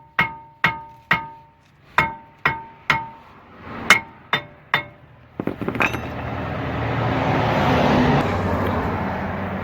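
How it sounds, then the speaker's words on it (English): A big hammer strikes the front brake rotor on an Audi A4 about eleven times in a steady, ringing metallic rhythm, loud and close, followed by a clunk and scraping as the rotor comes loose, then a broad hiss. "after a little tappy tap with the big hammer, we got it off"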